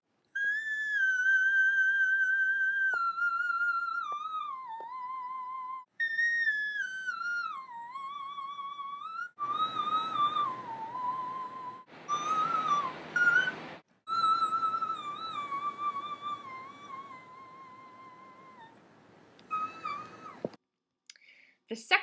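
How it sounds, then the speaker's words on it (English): A singer sustains high whistle-register tones live, producing thin, piercing pitched lines that slide and waver across several long phrases with short breaks between them, heard clearly and close on their own. "I just wanted to make this video of me doing some live whistle tones."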